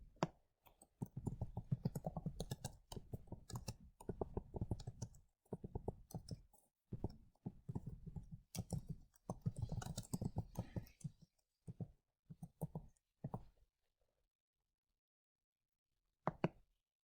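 Rapid bursts of clicking keys on a computer keyboard while entering text, loud and close, coming in quick runs with short pauses before falling silent, then a brief final flurry.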